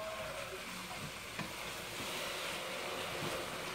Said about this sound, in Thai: ผัดไปให้นิ่มนะคะ